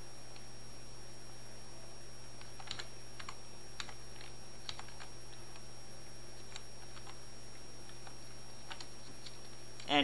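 Continuous typing on a computer keyboard at a domain controller while entering a shutdown command, quick irregular key clicks close up over a steady electrical hum, with no voices.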